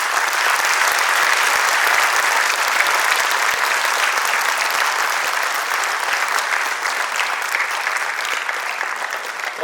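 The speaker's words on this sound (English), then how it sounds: "Let's have a round of applause for them." A school auditorium audience at YPS Patiala applauds award winners with sustained, even clapping from a large crowd, loud and continuous throughout with no voices on top.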